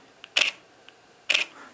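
A Nikon D810 digital SLR fires its shutter twice, each release a crisp mechanical clack roughly a second apart, with faint small clicks between in an otherwise quiet room.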